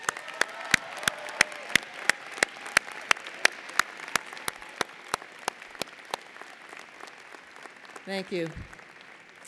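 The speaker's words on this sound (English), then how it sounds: "Please join me in applauding for these recipients." At a medical school commencement ceremony, an audience applauds award recipients with steady, rhythmic clapping that fades toward the end, where a voice briefly speaks.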